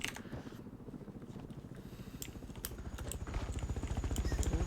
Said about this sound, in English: Where's that helicopter? I hear it.